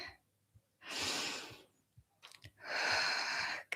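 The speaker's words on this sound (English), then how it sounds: "Slowing down the breath with that exhale." Two slow, breathy exhales during a standing Pilates workout, each lasting about a second and separated by quiet, with light soft breaths and small taps in between.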